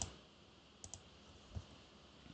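A computer mouse clicks a few times during photo-editing work, faint and quick, with a close double click and a later single click over quiet room tone.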